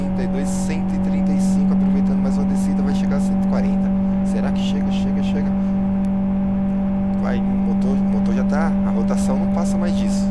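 A Corsa's engine drones steadily in the racing game Live for Speed, holding a constant high rev tone near its limit under continuous talk.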